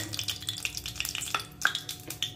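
Garlic fries in hot oil for a dal tempering, a close crackling sizzle broken by scattered pops and spoon clinks against the pan, with no talk.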